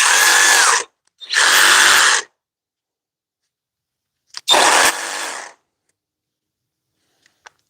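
A Milwaukee 2719-20 one-hand reciprocating saw cuts in three loud, close bursts, two about a second long with a short gap between, then a pause and a slightly longer final burst that trails off.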